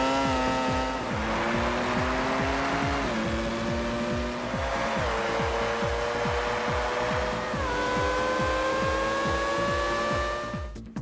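Formula One race car engine from the Formula One 2001 video game, a loud continuous high-pitched whine with steady pulsing, rising through several gear shifts with brief drops in pitch, close and alone.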